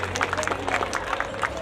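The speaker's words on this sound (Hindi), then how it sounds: "जोरदार तालियां हो जाए एक बार ईशान के लिए" An audience at an ex-servicemen association function claps for the singer Ishan, a brief burst of scattered hand claps with a voice talking over it.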